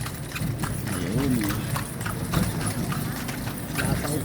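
Horse hooves clip-clop steadily on a street in Vigan, Ilocos Sur, near and continuous under outdoor crowd noise, with people talking throughout.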